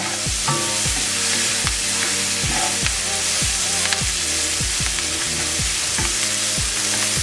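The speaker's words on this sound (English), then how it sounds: "Stir up and get all of that goodness in the bottom of the skillet out in there." Onions sauté in a skillet while a utensil stirs them, steady sizzling broken by regular scraping strokes against the pan bottom, close and with no talking.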